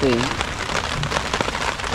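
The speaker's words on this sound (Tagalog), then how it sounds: "ganitong ulan, tigatik to yung ulan na yan tigatik kaya mahirap" Steady rain pattering on a car roof during a camping trip, a dense continuous patter with scattered louder drops; a voice speaks briefly at the start.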